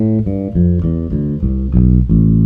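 Bass guitar runs down an A natural minor scale, the descending half of the classical melodic minor, one clear plucked note after another at an even, unhurried pace, close and alone.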